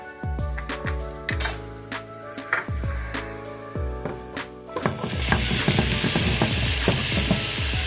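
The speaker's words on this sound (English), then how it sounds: "So I throw in my tomatoes and I saute them in there" Chopped tomatoes sautéing with chicken for tinga de pollo, pan clatter and knocks at first, then a steady broad sizzle swells as they fry, close up with no talking.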